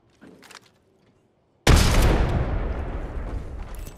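A frag grenade in Apex Legends detonates with one sudden loud close blast after a brief near-silent pause, followed by a long decaying rumble.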